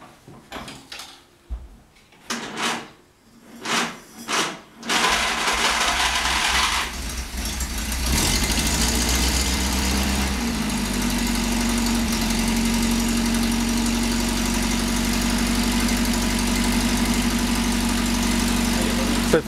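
A Simca 5 car engine cranking with several uneven bursts, then catching and settling into a loud, steady idle with a regular low drone that holds close for the rest of the stretch.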